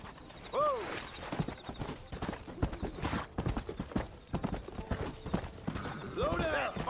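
Rapid hoofbeats clatter in a galloping rhythm in the video game Red Dead Redemption while a horse whinnies and people shout over the running.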